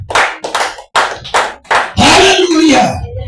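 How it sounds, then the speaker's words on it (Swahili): Clapping for Jesus during a Swahili worship service, several sharp bursts of hand claps in an irregular rhythm, close and loud, with a congregation's voices rising over the last part. "Pigia Yesu makofi jamani."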